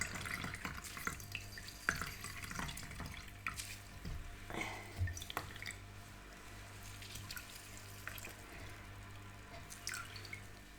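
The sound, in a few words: straining liquid from thyme syrup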